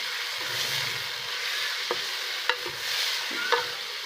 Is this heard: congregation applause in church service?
no